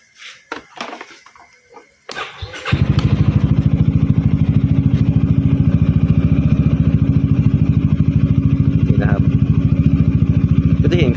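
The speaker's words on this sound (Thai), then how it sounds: "แล้วก็เดี๋ยวมาสตาร์ทรถก่อนเลย" Some clatter and a brief whirr, then a Yamaha XMAX scooter engine catches and settles into a steady, loud, close idle with a fast regular putter.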